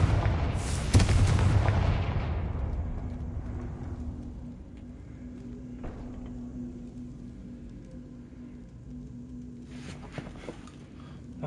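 A Confringo spell in Hogwarts Legacy bursts with a loud, close explosive boom that rumbles and fades over several seconds, followed by quieter ambient hum and a couple of faint later impacts.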